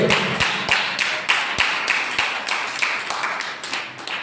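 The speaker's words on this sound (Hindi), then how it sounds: "विश्वास करने वाला ताली बजा के परमेश्वर को धन्यवाद करे। जोर से जोर से जोर से जोर से।" A church congregation at Sunday worship claps loudly in thanks to God, a dense, steady burst of many hands clapping close and together without a break.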